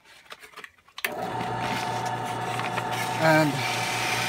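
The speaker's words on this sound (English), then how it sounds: "I'm just going to stick it in my drill press here." A drill press spins an aluminium rod wrapped in 600-grit sandpaper: the motor starts abruptly, then hums steadily and fairly loud, with a brief rougher rasp partway through, while someone talks.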